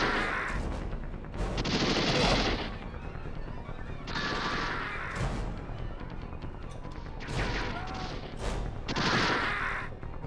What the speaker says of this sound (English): let the gun run out just because I'm kind of curious if it auto reloads at the end of a mag